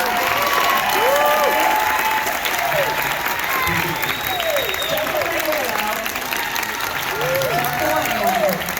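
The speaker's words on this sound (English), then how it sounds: "Please give a round of applause for" A theater audience applauds the cast in a sustained, dense burst of clapping, with voices and cheers rising through it and continuing throughout.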